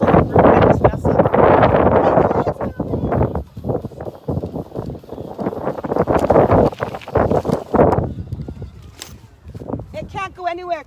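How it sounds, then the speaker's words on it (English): Wind buffets the microphone outdoors during a cardio and resistance band workout class, loud gusty rumbling that swells and fades, with people talking throughout. "That's the wind."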